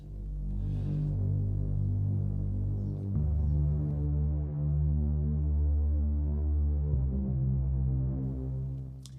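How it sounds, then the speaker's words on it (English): Warm, dark ES2 synth pad sustaining deep chords that shift twice, smooth and continuous, with no voices. "I've used the ES2 dark pad."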